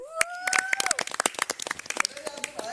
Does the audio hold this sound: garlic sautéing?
no